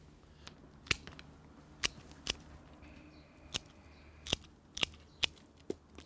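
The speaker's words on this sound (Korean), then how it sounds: "여기서 이렇게 잘라줍니다" Pruning shears cutting apple rootstock give a series of about ten sharp, crisp snips at irregular intervals, close but faint against a quiet outdoor background.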